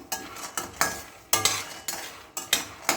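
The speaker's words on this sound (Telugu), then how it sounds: "నువ్వులు కూడా రోస్ట్ అవ్వాలి లోపల దాకా, సిమ్లోనే పెట్టి చేసుకోవాలని" Sesame seeds roasting over low heat in a pan, stirred with a utensil that scrapes and clinks against the metal about every half second in a steady rhythm, close and moderately loud, with no talking.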